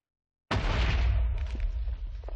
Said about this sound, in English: we're gonna lower the sound of the explosion